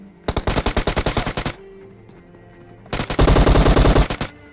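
Rapid automatic gunfire in a video game, two loud close bursts of about a dozen shots each separated by a brief pause.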